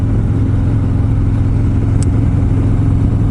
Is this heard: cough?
no